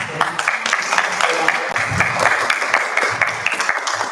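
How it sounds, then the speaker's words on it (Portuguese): Audience applause at a panel discussion on Black women's mental health, a steady wash of clapping lasting several seconds with some overlapping voices underneath. "Palmas."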